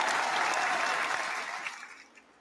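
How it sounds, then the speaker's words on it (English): A round of applause from a panel show audience, thick steady clapping that starts at full strength, then thins out and trails off to a few scattered claps. "Can we give a round of applause real quick?"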